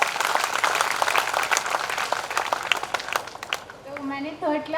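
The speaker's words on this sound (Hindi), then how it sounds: "तालियां बजाएं" Audience applause for a girl student at a school felicitation of IIT and NEET selectees, a dense burst of many clapping hands that thins toward the end as a voice begins speaking.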